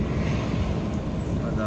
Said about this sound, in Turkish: Şu an uçak havaalanına inişe geçmiş.